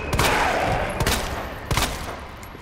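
Three sharp gunshots ring out, about a second apart, each loud and close, with a short echoing tail, in the video game Resident Evil 2 Remake.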